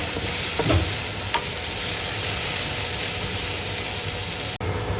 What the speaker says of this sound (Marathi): आनी हांव मिक्स करता आनी थोडोसो उगत दवरता आनी मातशें भाजता